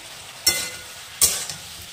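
Eggplant and tomato stir-fry in a pan: two short, bright bursts of sizzling as the mix is turned, with a quieter hiss between them.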